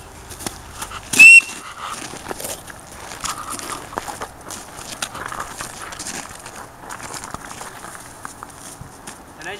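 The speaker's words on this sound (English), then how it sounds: "the whistle's way louder than me calling their name or whatever" A whistle is blown once to call a mink being trained to a lure: a short, sharp, high whistle burst near the start, followed by quieter handling noises, rustling and footsteps.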